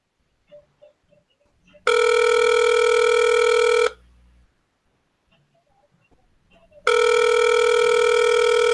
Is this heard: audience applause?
no